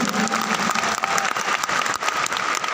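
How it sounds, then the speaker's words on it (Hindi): A crowd applauds loudly and continuously, a dense wash of clapping that stays steady throughout. "तो एक बार जोरदार तालियां"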